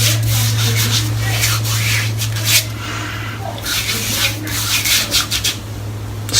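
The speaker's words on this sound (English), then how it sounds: "all I'm going to do is just squirt a good dollop on my hand, like so, and then just rub it all over." Shaving cream rubbed by hand over a bare scalp before a head shave: a loud, close, continuous scrubbing and swishing friction that pauses briefly and resumes in uneven strokes.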